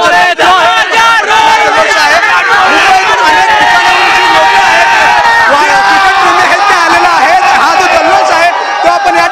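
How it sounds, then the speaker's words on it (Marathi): Cricket fans packed into Wankhede Stadium in Mumbai cheering and chanting, a loud, dense roar of many voices with rhythmic chant patterns sustained close and unbroken throughout. "एक मोठा जल्लोष वानखेडे स्टेडियम वर आपल्याला या ठिकाणी पाहायला मिळतो"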